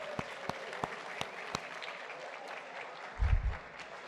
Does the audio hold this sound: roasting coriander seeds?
no